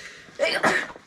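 A single sharp sneeze, close and loud, with a quick intake and burst lasting under a second.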